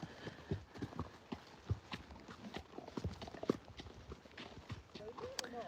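Horse hooves clip-clop at a slow walk across bog mats on a rural track, with uneven steady steps close by and people talking over them.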